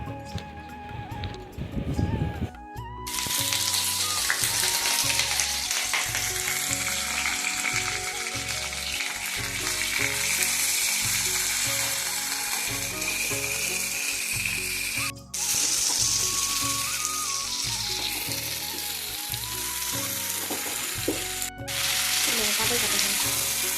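Chopped vegetables fry in a kadai on a gas stove, a loud, constant hissing sizzle close by, with a short quieter stretch at the start and a rhythmic pulsing background layer, no voices.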